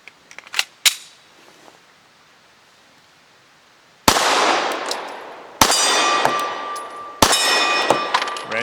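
Shots from a Smith & Wesson SD9 VE pistol firing Hornady Critical Defense Light 100 grain rounds: a few sharp clanks and small pops early, then three loud separate gunshots with ringing tails, several seconds apart.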